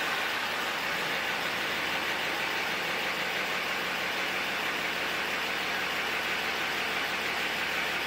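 A 6.7 Cummins diesel engine idles quietly, heard as a steady, even hiss-like hum with a low, constant undertone and no talk, unchanging from start to finish.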